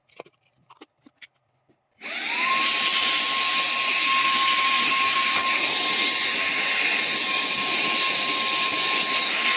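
A mini vacuum cleaner for car and home running in hair dryer mode starts up after a few faint clicks and keeps going as a loud, steady blowing whine with a constant high tone.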